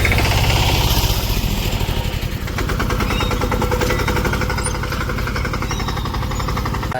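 A Mahindra Yuvraj tractor engine running in a farm field, a loud, close, rapid chugging pulse that holds steady throughout with a slight dip partway through.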